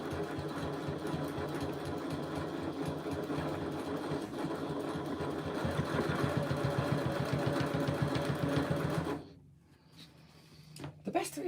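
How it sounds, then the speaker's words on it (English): A sewing machine stitches a bag's lining back onto its exterior, running in a fast, steady mechanical chatter for about nine seconds before stopping abruptly, followed by faint handling clicks. "So I'm now just going to base stitch back the lining to the exterior."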